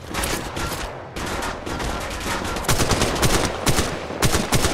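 Sustained automatic gunfire in the Apex Legends Mobile game, dense overlapping bursts of shots with a short pause after the first second, then heavier volleys continuing to the end, loud and without speech.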